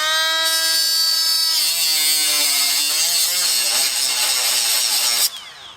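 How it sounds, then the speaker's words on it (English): A power tool cuts the rivets off a leaf spring shackle on an old Ford OBS truck, a loud, shrill, steady whine grinding for about five seconds before cutting off abruptly. "Let's cut our rivets off and get going."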